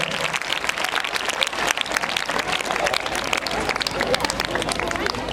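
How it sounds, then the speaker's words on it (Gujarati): A crowd at a folk culture programme applauds the performing girls with dense, loud, continuous clapping that runs through the whole stretch, mixed with some crowd noise. "એમના માટે એકવાર તાળીઓનો વરસાદ થઈ જાય."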